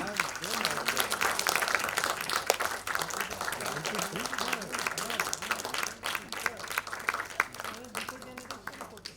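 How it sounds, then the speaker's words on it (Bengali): An audience at a club felicitation ceremony applauds, a steady wash of clapping running under talk and crowd murmur with a low hum in the hall. "একটু জোরে হাততালি দিন।"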